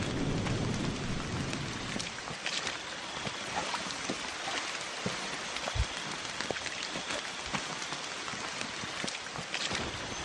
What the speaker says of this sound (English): we're out here on this rainy night hoping that the rain doesn't come down